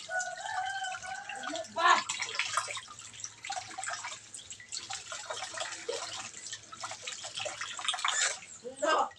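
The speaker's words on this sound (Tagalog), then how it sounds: "Hugasan muna natin yung isda." Fish being rinsed under running water from a tap in a home kitchen before cooking breakfast, a steady splashing wash with drips, under intermittent talk nearby.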